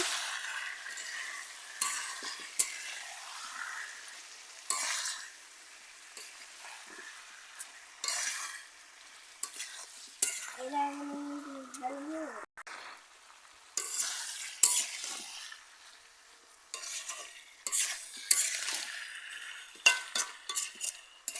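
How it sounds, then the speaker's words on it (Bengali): Meat and spice masala frying in a pan, with repeated spatula stirring and scraping over a steady sizzle, close up and with no voices. "ভালোভাবে কষে নিচ্ছি বন্ধুরা"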